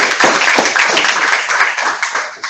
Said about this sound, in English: if everyone could just clap again